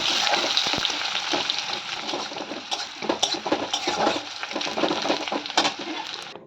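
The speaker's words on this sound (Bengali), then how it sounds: "পেঁয়াজটাকে খুব সুন্দর লাল লাল করে ভেজে নেব" Chopped onion fries in mustard oil in a wok, giving a dense, bright hiss that holds steady throughout. Occasional crackles and soft stirring knocks come through, close up and without speech, before the sound drops away at the very end.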